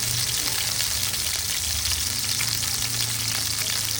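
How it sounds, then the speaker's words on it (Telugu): Chopped tomatoes fry in hot oil with a loud, constant, close-up sizzle and crackle, unbroken from start to end, with no talking. "టమాటోలు అన్నింటినీ నూనెలో మాత్రం బాగా వేయించుకోవాలి"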